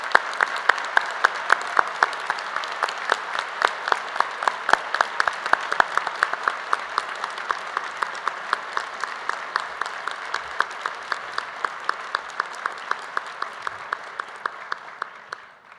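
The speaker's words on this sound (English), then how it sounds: "I'd ask you to give them another round of applause." Conference audience at an opening ceremony gives a round of applause for volunteer staff: sustained, moderately loud clapping in a large hall that thins into distinct individual claps before fading out.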